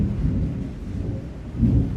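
Deep rumbling thunder with heavy rain during an approaching storm, a continuous low roar that swells louder near the end, heard alone without speech.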